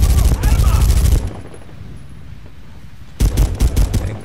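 Bursts of M16 rifle fire in a Medal of Honor team deathmatch on Kunar Base, loud and close: a rapid volley, a short lull, then another burst of shots.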